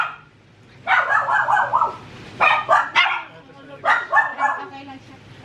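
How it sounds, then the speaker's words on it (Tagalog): A dog barks in a home garden at night, three bursts of sharp, yipping barks spaced a second or so apart, fairly close and loud, each burst a quick cluster of yelps. "may aso dito"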